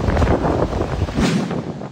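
Strong typhoon winds from Typhoon Christine batter the seaside at Lemery, Batangas, producing a loud, continuous roar with steady buffeting across the whole stretch and no voices.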